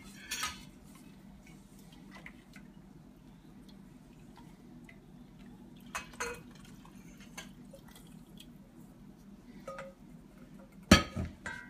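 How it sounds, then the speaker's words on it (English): Spoon stirring a liquidy hot sauce mix of whole red chilies, turmeric, oil, apple cider vinegar and tamarind: faint scattered clinks and scrapes against the pot, with a sharper knock near the end. "Stir it all around, get it mixed in, spices mixed in with the oil and the vinegar and the tamarind"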